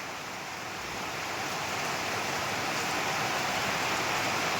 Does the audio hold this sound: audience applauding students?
no